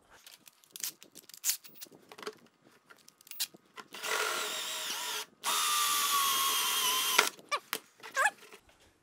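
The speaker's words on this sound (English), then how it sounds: "So I'm gonna use just a little hole saw." Scattered clicks and handling noises, then two sustained bursts of a whining power drill with a small hole saw cutting through material, with a short pause between them.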